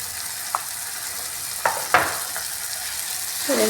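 Spices being fried in a pan for baingan matar bharta, a soft steady sizzle with a few sharp scrapes of a stirring spoon against the pan, close and alone without talk.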